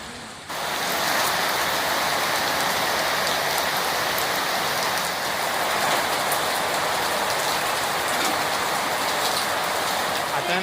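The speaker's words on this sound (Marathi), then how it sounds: "आता सकाळ सकाळच पाऊस पडायला लागलाय." Morning rain falls steadily in a coastal forest beyond Alibag, a dense, continuous hiss of drops on leaves and surfaces that starts abruptly and holds even and close throughout.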